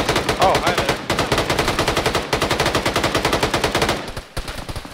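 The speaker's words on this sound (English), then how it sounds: "Please don't shoot at me." Rapid machine-gun fire in a video game sounds in dense, rhythmic bursts with brief pauses between them, loud and close throughout, with faint speech underneath.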